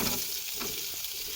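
Radish pieces dropped into hot oil in a kadai set up a steady, close sizzle of frying, a continuous crackling hiss with faint stirring scrapes and no voices.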